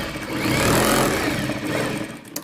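A sewing machine runs steadily while stitching the seam of a Rajputi suit, with a continuous close mechanical whir and rapid needle chatter that stops abruptly at the end.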